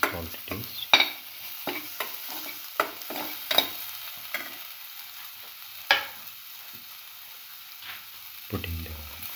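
Egg and black pepper stir-fry in a pan, with a quiet sizzle beneath repeated sharp scrapes and clinks of a spatula tossing the food at an uneven rhythm, close and clear.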